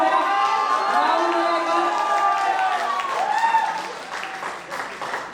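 Audience applause at a sangeet night wedding celebration in Bilaspur, Chhattisgarh, steady and close, with loud voices and cheering layered over the clapping throughout.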